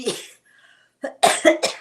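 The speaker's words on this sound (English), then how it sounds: "excuse my coughing" A few harsh, close coughs in quick succession, preceded by a short throaty sound and a moment of near silence.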